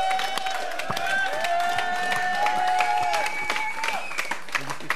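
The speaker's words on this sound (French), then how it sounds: "Applaudissements pour Lindsay" A French television studio audience applauds with scattered claps and cheers, moderately loud and steady across the whole stretch, with tonal music or voices sounding alongside.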